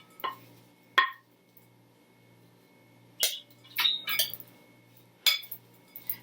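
Shrimp mixture being stirred in a bowl for air fryer recipes, heard as a few separate clinks and scrapes of utensil against the bowl, close and fairly quiet, with pauses in between.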